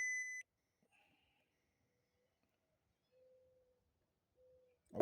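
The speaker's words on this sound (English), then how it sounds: "Okay, every time I touch it, it's going to beep." A circuit tester touched to an ignition coil wire on a 2007 Ford F-150 with a 5.4 engine gives a sharp electronic beep at the start, then a few faint, brief tones in near silence.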